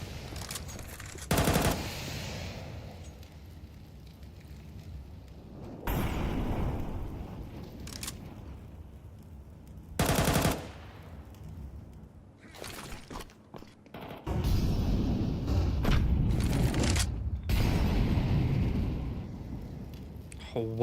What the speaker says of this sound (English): Sapek still working with an SMG.